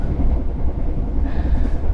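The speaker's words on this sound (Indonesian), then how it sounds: "Dari stasiun Lempuyangan saya akan naik kereta Kahuripan" A Kahuripan passenger train runs on rails, its loud, steady rumble and rattle of wheels heard up close throughout with no talking.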